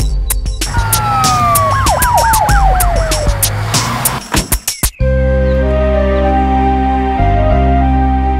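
A cartoon ambulance siren wails in loud, sweeping rising and falling cycles, up close, then cuts off abruptly into soft background music.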